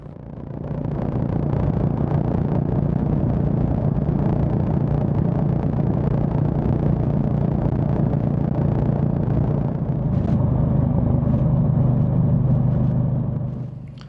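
Honda GB350 motorcycle cruising in fifth gear and rolling on the throttle, a steady low engine drone with road rumble that stays loud and even throughout.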